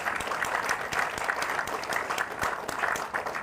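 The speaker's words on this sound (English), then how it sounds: "I think they deserve another round of applause" An audience at a Texas border wall construction kick-off event claps steadily in a full, continuous round of applause, even in loudness throughout with no voices on top.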